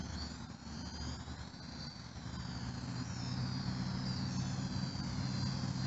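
A drone in flight gives a steady whining, buzzing hum close to the microphone, rising slightly in intensity as it keeps flying, with no voices.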